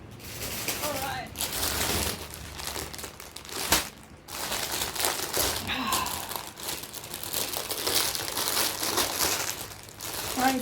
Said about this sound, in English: I'm super sorry about all this crinkling.